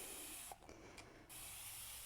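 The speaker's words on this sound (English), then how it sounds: "the first thing I'm going to do is give this a really good spray." Water from a spray bottle hisses onto an old secretary desk being refinished, one soft continuous spray with a couple of brief breaks from trigger pulls, close and quiet.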